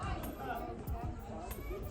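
A crowd of visitors at Old Faithful geyser in Yellowstone chatters in a steady, low outdoor babble, indistinct overlapping voices filling the background at moderate distance throughout.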